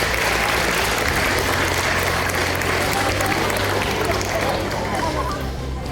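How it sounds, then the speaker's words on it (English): Dense, loud applause fills a school hall at a first-year awards ceremony as a class's winners are honoured, a continuous crowd of clapping with a faint murmur of voices mixed in. "Round of applause for winners from 1C1."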